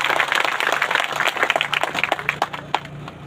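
A crowd gives a welcoming round of applause to a speaker at a Bhim Army rally in Barmer, Rajasthan: dense, irregular hand claps that stay fairly loud and thin into scattered, separate claps toward the end.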